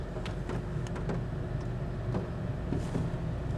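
An automatic car wash machine moves around a stationary car, giving a steady loud mechanical hum and whir with intermittent clunks and brush-like swishes, heard from inside the vehicle.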